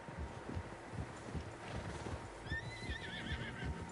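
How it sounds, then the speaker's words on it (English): Several horses in the Red Dead Redemption game world, with soft clip-clop hooves thudding steadily at moderate distance, then a clear whinny rising and wavering near the end, all fairly quiet. "Horses, quite a few of them."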